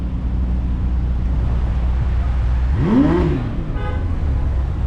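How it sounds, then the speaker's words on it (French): A car engine in Dubai revs once in a rising and falling roar that peaks and fades over about a second, heard close against a steady background hum with no talking. "Can we hear the sound? The car sound."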